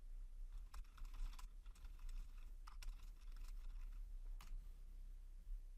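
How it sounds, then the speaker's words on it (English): Quiet typing on a computer keyboard while writing code, irregular bursts of soft key clicks with brief pauses between words, close and alone in a hushed room. "So typing that in our editor"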